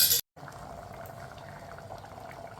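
Dal and small bitter gourd pitlai simmering in a pot, a steady low bubbling and gentle churning that carries on evenly and close, following a brief loud burst and a moment of silence at the start.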